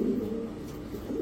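A male racing pigeon coos close by, giving a soft, low rolling coo that repeats through the short moment.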